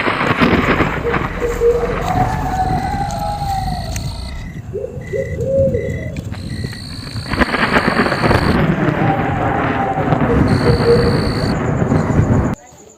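A thunderstorm with rain: steady loud rainfall and low rumbling thunder fill the scene throughout, with a few faint tonal calls over the top before it cuts off abruptly.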